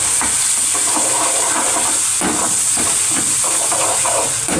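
Tomato gravy with turmeric for a whole-onion curry sautéing in a pan gives a loud, continuous close sizzle and hiss with faint stirring scrapes, and no talking over it.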